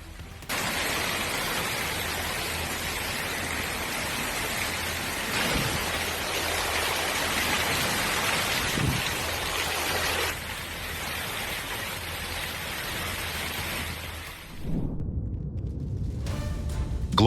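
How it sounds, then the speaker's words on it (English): Heavy, constant pelting of hail on a swimming pool roars as a broad hiss, then cuts off near the end before a brief rattling. "hail pounds into a swimming pool, heavily affecting the water surface and nearby objects."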